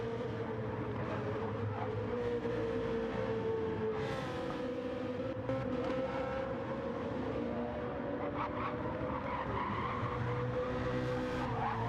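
Tyres squeal on a racing car at a round of a race series, with a long, loud wavering screech over a constant engine roar and several sharper squeals along the way.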